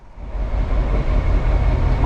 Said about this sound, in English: So there goes the Class 14, and that's going to haul this train into platform 2